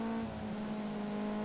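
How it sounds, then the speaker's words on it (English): A race car in Project CARS 2 brakes and drops to second gear into a tight final chicane, a steady engine whine holding a strong low tone with faint overtones, continuous and fairly close. "Hit the brakes. Down to second gear."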